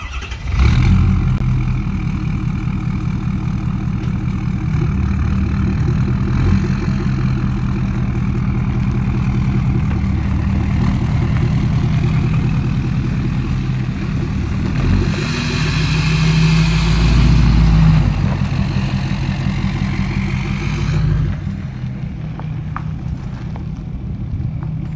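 A 1978 Chevy engine runs close and loud at a steady, rumbling idle, swelling briefly as if revved midway, then drops to a lower, quieter idle near the end.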